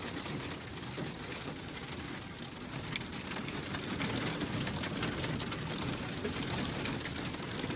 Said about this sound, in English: You can hear the rain really coming down now.